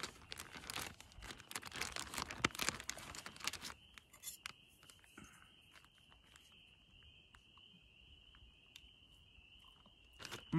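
A hot food pouch of noodles, Spam and potatoes having its lip folded over on a trail outing, with close crinkly rustling in bursts, then a quiet stretch with an outdoor insect trill and a few small crackles.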